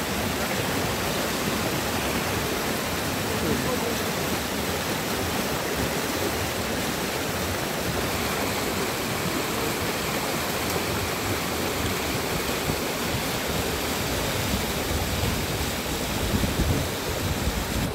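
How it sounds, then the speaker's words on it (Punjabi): Fast, swollen river water rushes in a steady, loud broadband roar that fills the whole stretch with no pauses, close by and alone, with no voices over it. "ਪਾਣੀ ਅੱਜ ਬਹੁਤ ਤੇਜ਼ ਪਾਣੀ ਚਾਹੀ ਰਿਹਾ, ਮੈਂ ਕਿਆ ਖੂਬਸੂਰਤ ਦਰਿਆ"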